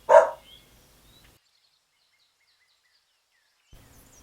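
A single dog bark sounds once near the start, loud and close, followed by a short quieter tail and silence, with a faint low rumble near the end.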